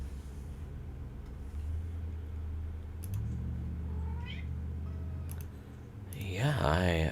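A cat meows in a room near a game of Aven Colony (PC, 2017), a brief rising cry near the end over steady low background hum and faint clicks.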